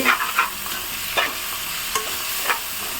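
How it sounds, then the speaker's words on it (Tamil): Tomatoes and onions sauté in a pan while a spoon stirs them in several short scraping bursts over a steady sizzle, close and clear with no talking. "தக்காளி கொஞ்சம் வதங்கிட்டோம். பாதி வதங்கிடுச்சு நமக்கு தக்காளி."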